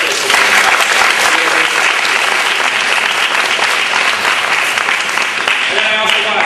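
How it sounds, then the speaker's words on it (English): Audience at a school drama festival breaking into sustained, loud, dense applause that holds steady throughout, with a few voices audible beneath the clapping. "Let's give them a warm round of applause."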